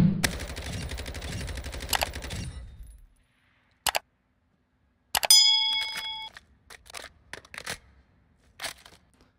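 Lachman 5.56 rifle fire in Call of Duty Warzone, built like an SMG: a rapid burst of automatic shots at the start, then isolated sharp single cracks and a ringing hit-marker chime spaced across the rest.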